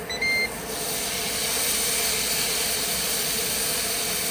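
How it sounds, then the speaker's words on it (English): A tri-tip roast sizzles steadily while cooking at a fall campsite, a soft, even hiss with a faint electronic beep at the very start. "Listen to that sizzle. That tells you we are ready to go."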